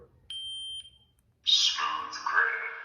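A lightsaber's steady electronic beep sounds for about half a second, entering mute mode, then after a pause a bright, wavering sweep of tones rises and falls.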